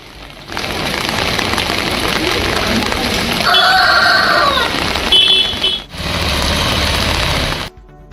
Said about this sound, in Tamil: சிவகங்கை சுற்றுவட்டார பகுதிகளில் இன்று காலை முதல் பரவலாக மழை பெய்து